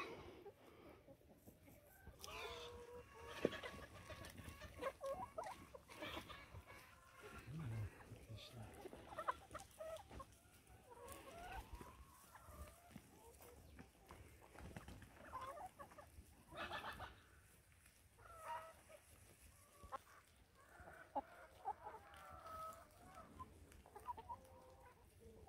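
Pastured hens cluck softly and intermittently outdoors in January, scattered calls rising and falling over a faint background.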